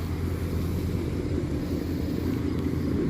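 A 2014 Ford Mustang GT with its 5.0 engine breathing through a Roush exhaust idles in a steady, deep, close rumble, even and continuous with no voices.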